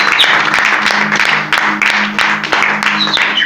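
A church congregation claps and applauds for the Lord, steady dense clapping with a few whoops, close and lively over a low hum.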